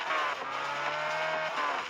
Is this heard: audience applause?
no